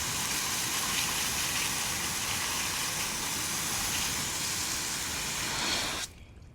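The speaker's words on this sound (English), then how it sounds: "You can still see all the brake dust coming off. So give it a good rinse." Water spraying steadily from a hose to rinse brake dust off a Challenger Hellcat wheel, a continuous close hiss that cuts off abruptly near the end.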